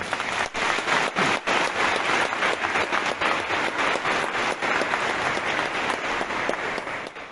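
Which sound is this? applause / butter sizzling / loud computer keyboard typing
applause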